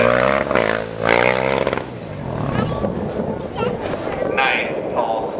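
Sportbike engine revving hard during freestyle stunt riding at the Coronado Speed Festival, a loud, close roar that rises and falls in pitch, with an announcer talking over it through a public-address system.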